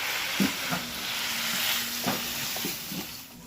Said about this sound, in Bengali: চিকেনগুলো দেখো খুব ভালো করে ভেজে নিয়েছি